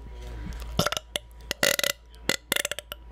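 A string of several loud, gurgling burps erupts near the mic in quick succession, broken by short pauses, with no talk over them, during a casual Uncharted 4 gaming session.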